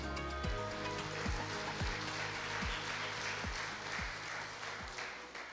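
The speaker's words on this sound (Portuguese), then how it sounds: "Vamos receber com muita alegria e uma grande salva de palmas" A church congregation applauds to welcome a guest preacher, a steady wash of clapping running throughout, with a repeating low thump pattern beneath it and no speech on top.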